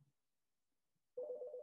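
A telephone ringer suddenly starts during a quiet stretch of an interview, giving a steady, buzzy electronic ring that begins abruptly after about a second of near silence.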